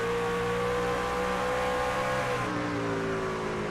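A racing truck engine in a video game gives a steady drone with sustained tonal whine, holding at high revs throughout, with no speech.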